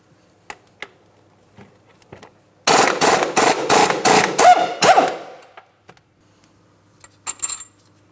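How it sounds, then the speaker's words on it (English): A 24mm crank pulley mounting bolt comes off a 2004-2008 Pontiac Grand Prix 3.8L V6: a loud, rapid run of about eight hard metallic hammering pulses, with scattered faint clicks and handling noise before and after. "Now we can start removing our 24mm headed mounting bolt."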